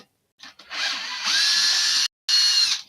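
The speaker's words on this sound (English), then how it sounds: "Screwdriver. Take these screws out." A power screwdriver removing screws, heard as a loud continuous whirring drive with a rising pitch, briefly stopping before spinning up again, close and without talk.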